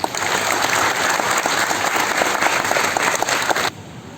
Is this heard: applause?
yes